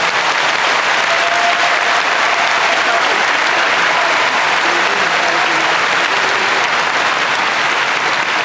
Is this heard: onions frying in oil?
no